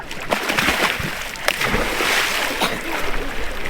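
Water in Lake Bled churns and splashes continuously as a man climbs in to swim, a dense, close sloshing wash with irregular louder slaps throughout.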